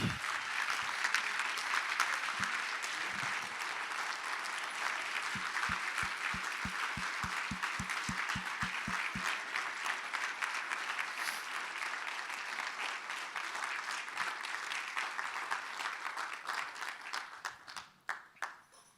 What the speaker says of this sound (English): Let's give Emily a round of applause.